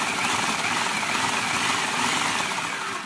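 Kitchen food processor pulsing a cheesecake crust mixture, a short loud burst of dense, gritty whirring and grinding heard alone for about three seconds.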